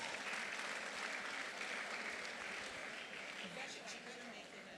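Audience applause at a plenary session of a political conference, a steady wash of clapping that holds for the whole stretch and fades slightly at the close.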